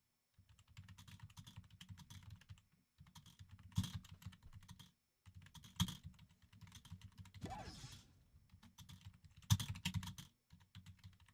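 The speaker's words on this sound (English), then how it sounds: "Sorry about slapping on my keyboard. It is a very loud keyboard." Very loud computer keyboard being slapped hard during gaming, dense bursts of rapid clattering keystrokes in repeated runs separated by short pauses, close and alone without speech.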